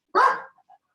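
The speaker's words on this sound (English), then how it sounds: "The dog." A dog lets out one sharp, loud bark nearby during an online meeting, followed by a couple of faint trailing whimpers, with no talking.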